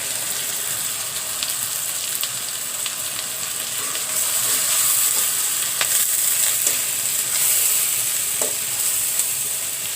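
Dried fish frying in a pan with turmeric, dried chili and coriander powder, a steady bright sizzle with occasional stirring scrapes that grows slightly louder partway through, close by.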